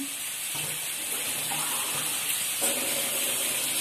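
A steady stream of water pours and splashes close by into palabok sauce being cooked, continuous and fairly quiet, with a slight change in pitch partway through.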